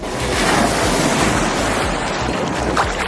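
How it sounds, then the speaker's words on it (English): Big ocean waves at Shell Key Island, Florida, wash and roar steadily with heavy wind noise. The surf is close and loud throughout, with no voices. "Big waves coming through."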